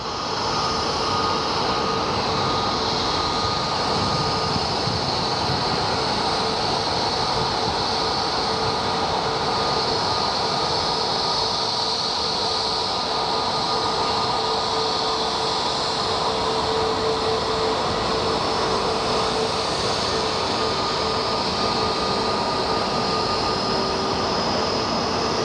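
Spirit Airlines airliner passing at Sky Harbor International Airport, a steady, loud broadband jet roar holding for the full stretch with a faint whine on top, no talk.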